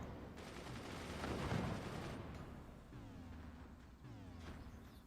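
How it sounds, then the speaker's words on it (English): Mortars in the physics-based strategy game Forts fire a volley, a dense rumble of overlapping thuds and crackling blasts that peaks early and then trails off into softer repeated booms, faint and distant in the mix. "anti-air against the next volley of mortars"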